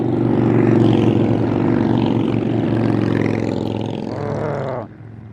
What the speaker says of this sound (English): Bring you the sound of the motorbikes as well.